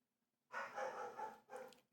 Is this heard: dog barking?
yes